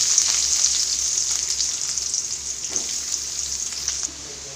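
Onions sizzling in hot oil with popped mustard seeds and green chillies, a steady bright crackle with occasional spatters, close and loud, easing slightly toward the end; no talking.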